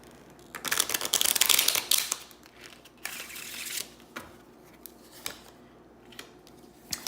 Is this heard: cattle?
no